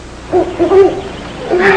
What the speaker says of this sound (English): There's a love call, Smiley. An owl calling to its mate.